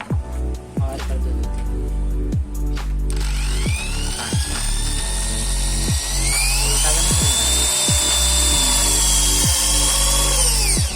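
A Makita power drill bores a hole into a plywood board, whining loudly at high speed with repeated short bursts as the trigger is pulsed, the pitch climbing and holding under load, close up with no voices.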